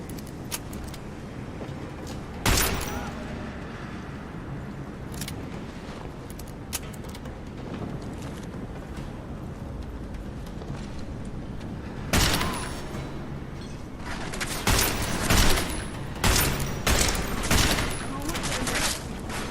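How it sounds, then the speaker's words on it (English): Bursts of rapid gunfire in the video game Deus Ex crackle intermittently over a steady low background hum, growing denser and louder toward the end. "Everyone hears gunshots."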